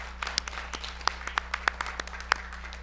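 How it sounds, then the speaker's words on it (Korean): At a university presidents' summit dinner, the audience claps to welcome a soprano and a tenor. The applause is modest and fairly faint, with distinct individual claps over a low steady hum. "우리 큰 박수로 청해서 듣도록 하겠습니다"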